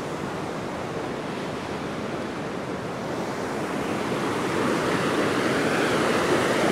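Water rushing through the main chute of Bells Rapids on the Avon River, a steady, loud roar of whitewater with no voices, swelling slightly louder toward the end.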